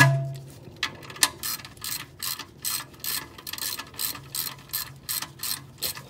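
A wrench working loose the oil drain nut on a 2004 Lexus ES330, giving a steady run of rapid ratcheting clicks in even bursts, close and moderately loud with no talking.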